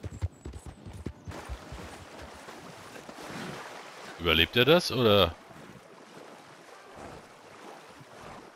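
Horse swimming through water in Red Dead Redemption 2, with splashing and sloshing sounds under someone speaking, rising in a louder burst of churning water midway before settling back.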